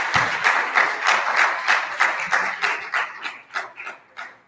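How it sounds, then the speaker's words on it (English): A crowd of students at an assembly in Abeokuta gives a round of applause for a student, a full, rolling burst of many hands clapping that swells, then breaks into looser, more separate claps as it fades out. "Can we give him a round of applause again?"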